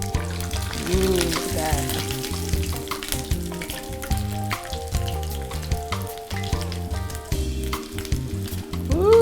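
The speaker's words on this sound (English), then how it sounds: "we're just going to cook these until these tortillas are nice and brown" Chicken flautas fry in a pan as their tortillas brown, a steady close sizzle with stirring clatter, mixed with background music and a brief spoken exclamation.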